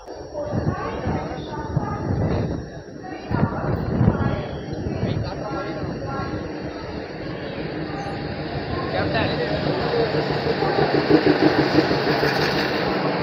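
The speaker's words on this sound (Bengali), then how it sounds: "এই দেখো ট্রেন আসছে।" A DEMU local train rolls into Dindigul Junction with a growing diesel engine drone and rail rumble that builds louder toward the end, while someone talks over the first half and platform chatter continues.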